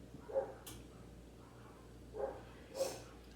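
Faint, distant dog barks, a single bark followed later by two more, over a quiet low hum.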